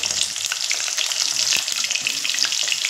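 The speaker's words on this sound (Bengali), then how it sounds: "এবার আমি যে আলুগুলো কেটে রেখেছি আলুগুলো ভেজে নেব" Cut potatoes fry in hot oil with a dense, crackling sizzle that stays loud and continuous from start to finish, with small pops and spatters and no voices.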